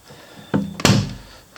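A hinged hatch held by two magnets on a shuttle bus camper swings open, with a soft thunk followed by a sharper, louder clack as it releases and settles, close by.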